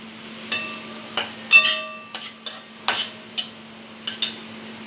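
Spices being stirred in a pan over a low flame for chilli chapati, with a handful of separate scraping strokes and soft sizzles over a steady low hum.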